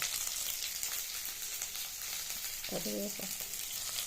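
Chopped onions and ginger pieces sizzle steadily in hot oil, a dense, even hiss throughout, with a brief tonal beep near the end.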